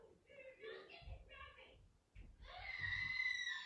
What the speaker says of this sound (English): I hear screaming now.